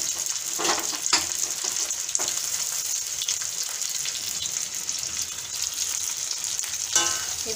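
Raw mango pieces fry lightly in a pan for a sweet-and-spicy pickle, giving a steady soft sizzle with a few louder crackles and stirring scrapes scattered through.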